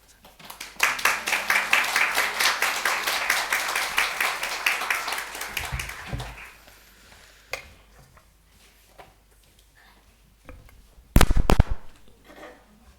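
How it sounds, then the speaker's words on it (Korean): A church congregation applauds to welcome a pastor to the stage, a dense wave of clapping that swells quickly, holds for about five seconds, then fades, followed by scattered room noise and a short loud burst near the end. "우리 박수로 환영하시기 바랍니다."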